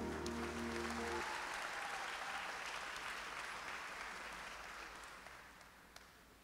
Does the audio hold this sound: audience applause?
yes